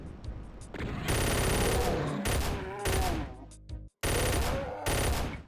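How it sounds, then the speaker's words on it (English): Chaingunner enemies in the Doom wad Mordeth firing long, rapid, loud bursts of automatic gunfire, broken by short gaps and a brief silence before the shooting resumes. "Ooh, another chain gunner."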